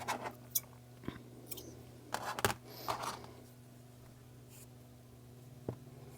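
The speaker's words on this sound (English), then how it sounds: "From here, we're going to cut and tie off our yarn." Scissors cutting crochet yarn: a few faint, brief snips and light handling clicks scattered over a quiet, humming background.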